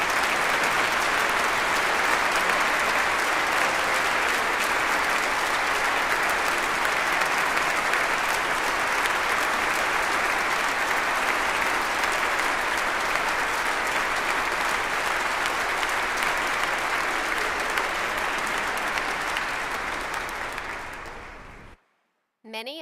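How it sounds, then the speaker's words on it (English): Sustained, dense applause from an audience honoring students at a 2022 honors convocation, steady and full for about twenty seconds before cutting off abruptly. "Would you please rise so that we can applaud your efforts?"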